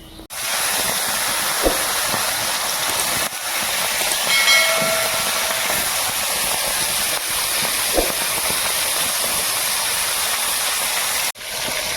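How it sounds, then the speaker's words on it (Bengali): Hilsa fish pieces frying lightly in oil in a home kitchen, a loud, continuous hiss with a couple of brief knocks, heard alone. "একটু হালকা হালকা করে মাছগুলো ভেজে নেবো বেশি লাল লাল করবো না"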